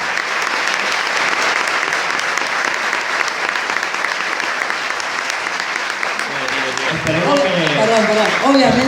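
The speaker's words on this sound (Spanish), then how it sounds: "os pido un aplauso para el maestro Ibu" Steady audience applause fills a conference hall on flat-earth topics in Barcelona, with a voice starting to speak over it near the end.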